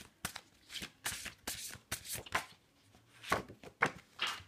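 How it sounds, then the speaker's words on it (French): Tarot cards shuffled by hand, a run of quick riffling and slapping bursts close up, irregularly spaced with short pauses between them. "je brasse les cartes"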